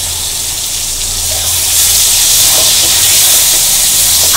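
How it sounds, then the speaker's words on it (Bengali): Shing fish (stinging catfish) dropped into hot oil in a pan, giving a loud, steady broadband sizzle and hiss that swells after a couple of seconds and holds, close up, with no talking. "তেল গরম হয়ে গেছে, এখন আমি মাছগুলোরে কষাই করে নিব।"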